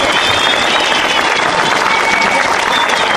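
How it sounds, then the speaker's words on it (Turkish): Dense, loud applause from a crowd at an HDP political rally in Kavakpınar, Pendik, a steady wash of clapping throughout with cheering mixed in. "Evet bir alkış alalım önce başkanımız bu alkışçı Fazlı."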